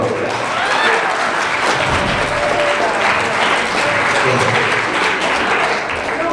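Loud, sustained audience applause at a grad night hypnosis show, a dense continuous wash of clapping with crowd noise and voices mixed in throughout.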